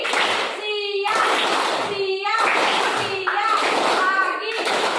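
Schoolchildren in an Indonesian classroom clap out a rhythmic clapping chant, bursts of claps landing roughly once a second under loud, sing-song group voices.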